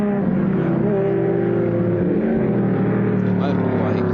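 A racing touring car at a wet Warwick Farm circuit in 1973 drones steadily past with a sustained engine note, partly under a commentator's voice.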